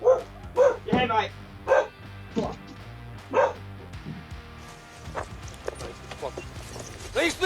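A guard dog barks in loud, close bursts, several deep woofs spaced irregularly, while people talk and shout around it.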